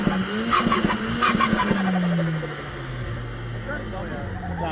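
Toyota 4AGE 20-valve engine swapped into a Nissan 1400, revving loudly and close, with rising engine tone and crowd noise at a car event, then settling to a lower idle drone as people talk nearby.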